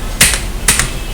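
Two crisp keystrokes on a computer keyboard during data entry, the second one the Enter key, each a short sharp click close to the mic.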